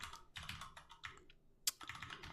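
Close, fast typing of code on a computer keyboard, with uneven bursts of key clicks, short pauses and one sharper keystroke, and no talking.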